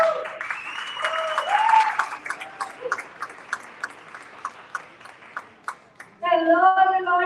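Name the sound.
audience applause for a speaker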